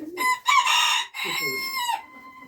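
A chicken gives loud, close, drawn-out squawking calls in a few bursts, harsh and nasal, with brief pauses between them.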